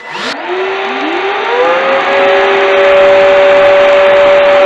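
Two Ryobi wet vacuums, a 40V and an 18V battery model, start up together and whine up to a steady, loud motor drone with rising tonal hum, running continuously alone.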